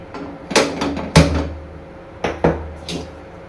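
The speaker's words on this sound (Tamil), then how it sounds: "ஒரு பாத்திரத்தை அடுப்பில் வச்சுக்கிடுவோம்." A cooking pot set down on a stove before making Chettinad mutton sukka, giving a couple of sharp near knocks and clatters with a few softer bumps in a quiet kitchen.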